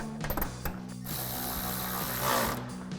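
A quiet, steady ratcheting clicks as a 7mm screw is driven into the wheel liner trim of a 2020-2023 Silverado 2500, with a soft mechanical whir running underneath.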